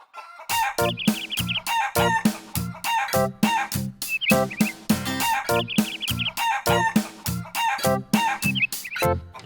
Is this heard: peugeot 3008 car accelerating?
no